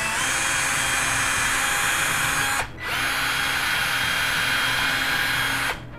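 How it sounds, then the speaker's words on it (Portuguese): Power drill boring a 3 mm hole in a part for a homemade CNC frame, loud and close, with two sustained high-speed whines separated by a brief stop. "Aí é só marcar o centro e vamos furar com 3 milímetros."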